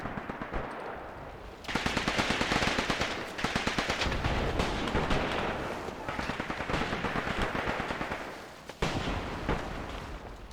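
Sustained bursts of machine gun fire with heavier artillery-like blasts from the WWII tactics game Graviteam Tactics, a dense, loud, continuous barrage with rapid staccato shots and brief pauses, no speech over it.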